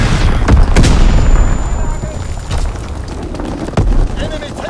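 Mortar rounds land in Call of Duty WW2 as loud, heavy booms, several deep blasts in a row, with a radio-style voice talking over the barrage.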